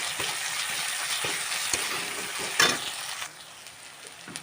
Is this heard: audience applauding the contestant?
no